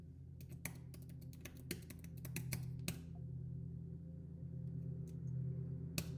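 Keys clatter on a computer keyboard as a password is typed: a quick run of close, sharp clicks over a low steady hum, thinning out to a few isolated taps, with no talking.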